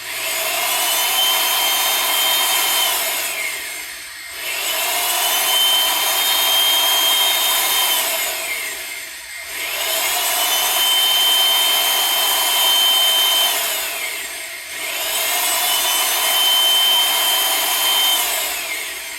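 A Ridgid 700 power pipe threader drives a die cutting threads on pipe, a loud grinding, rasping drone in four long passes separated by brief dips, with a rising-then-steady whine in each stroke.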